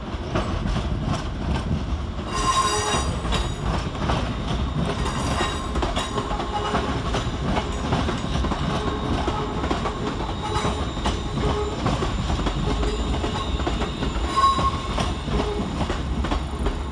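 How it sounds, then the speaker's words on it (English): A ScotRail Class 380 train rumbles into Glasgow Central station with steady rolling wheel noise and rhythmic clacking, a couple of brief metallic squeals rising above the continuous loud hum. "Next train in, terminating with a ScotRail service off of Neilston"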